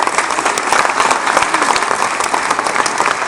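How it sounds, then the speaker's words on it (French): A dense, steady round of audience applause fills a formal municipal New Year's greetings ceremony in Aulnay-sous-Bois as the department prefect is welcomed, many hands clapping at once, close and sustained throughout. "qu'on peut applaudir"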